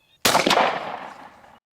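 A Mossberg SA410 shotgun fitted with a Patternmaster Code Black Turkey .381 choke fires a single Burgess Creek TSS load outdoors. The sharp, loud blast is followed by a rolling echo that fades over about a second.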